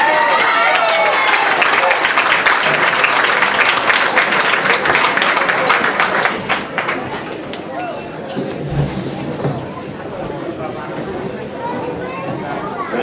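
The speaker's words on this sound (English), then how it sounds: "Give them a big round of applause." Crowd applause for a band at a traditional music battle-of-the-bands contest, loud clapping for about six seconds that then thins into murmuring chatter and scattered claps from the audience.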